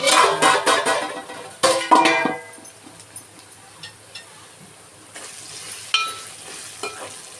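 Ginger-garlic paste mixture stirred and frying in a pan for fish pulusu, with loud bursts of spoon scraping and sizzling at the start, then quieter intermittent stirring clatter.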